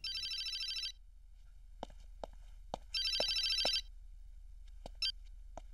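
An electronic telephone ringer sounds in a film scene in two bursts, then a short third chirp, over a quiet room background with scattered soft knocks and clicks.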